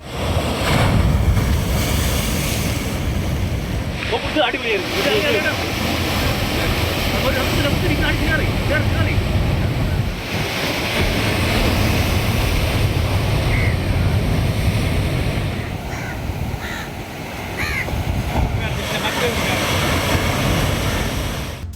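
Rough sea waves crash along the Kanyakumari coast, a loud, continuous roar of surf mixed with strong wind buffeting the microphone, with repeated surges throughout.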